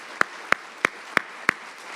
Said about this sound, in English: Let's give a nice round of applause to the beloved staff here for letting us be here.